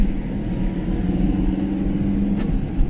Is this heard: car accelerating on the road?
yes